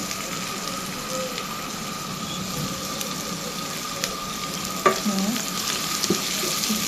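Oil sizzles steadily in a pan as vegetables fry, a constant close hiss with a couple of brief clinks of a utensil near the end and no talk.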